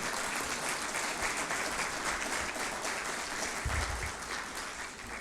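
Church congregation applauding together, a dense, steady clapping that holds evenly for several seconds with no talk over it.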